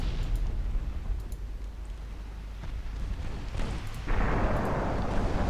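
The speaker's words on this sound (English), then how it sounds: "Torpedoes keep blowing up." Torpedo hits erupt in a naval battle game of early-20th-century dreadnoughts, a run of deep, rumbling booms and bursts over a continuous low roar, with a louder blast swelling near the end.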